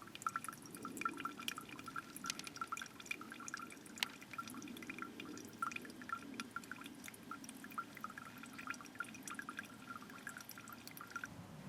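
Water drips steadily from a survival water filter bottle beside a riverbank, a continuous patter of small drops close by with a soft trickling wash underneath, no voices.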